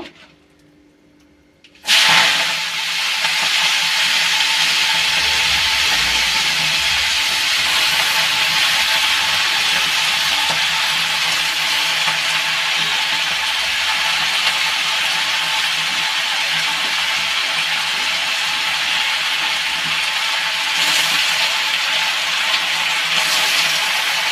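Malabar spinach hits a hot pan and fries with a sudden loud, steady hiss and sizzle that runs on unbroken close up after a brief quiet start.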